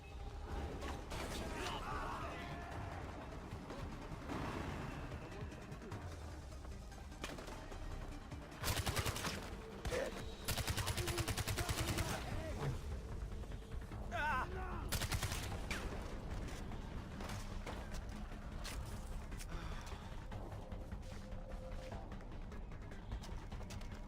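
Shotgun and other gunfire in the video game Far Cry 4, scattered booming blasts with bursts of rapid shots and mechanical clatter over a constant background din, loudest in the middle stretch.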